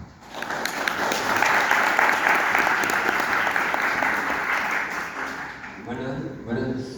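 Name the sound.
audience applause at a book presentation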